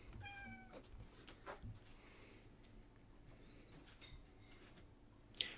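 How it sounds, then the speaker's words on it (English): A house cat entering a room gives a few faint meows, quiet and somewhat distant against a low background hum, with a sharp click near the end. "My cat's just entered the room."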